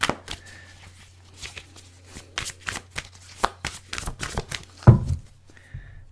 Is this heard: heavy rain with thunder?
no